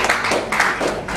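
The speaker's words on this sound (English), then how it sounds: "All right, round of applause for you, please." Audience applause at a fashion business talk, a steady wash of many hands clapping at close range, fairly loud throughout with no voices over it.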